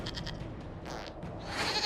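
A goat in the video game Dragon Age: Inquisition bleats several times in short, nasal cries, close and moderately loud over a low background.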